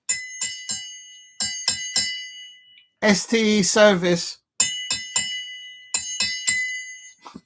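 A small ding-a-ling service bell is struck in quick bursts of three or four bright, ringing dings, loud and close, with a short stretch of speech in the middle of the sequence.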